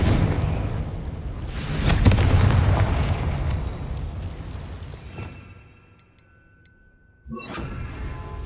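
Confringo fire spell blasting in Hogwarts Legacy, a booming explosion with crackling debris that rolls and fades into near silence, then a sharp new whoosh and burst at the close.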